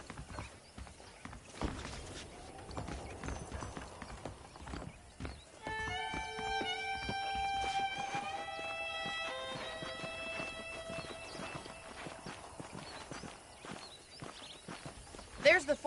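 Horse hooves clip-clop at a walk in a western video game, with a neigh and harness clinks, while someone talks over them and tonal game music swells in the middle.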